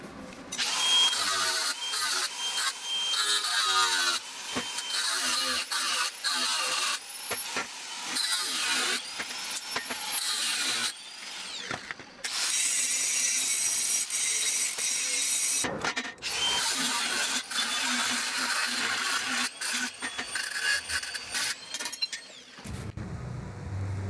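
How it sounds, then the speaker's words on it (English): Tack welds being cut off a steel trailer frame with a power tool, a loud continuous grinding whine running almost the whole time with a few brief pauses, close and without speech. "now I'm going to come in here and cut the tack welds off"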